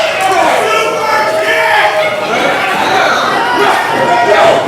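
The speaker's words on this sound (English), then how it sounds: "And the crowd continuing to rally behind Flash Carter" A wrestling crowd at a live independent show cheers and chants steadily throughout, a dense roar of many voices filling the venue.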